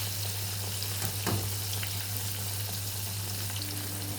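Breaded cutlets fry in a pan of hot oil with a steady, even sizzle throughout, joined by a low constant hum, with no talking.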